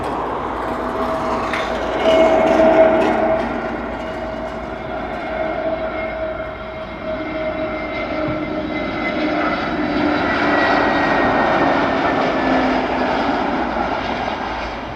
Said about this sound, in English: Another Aer Lingus inbound.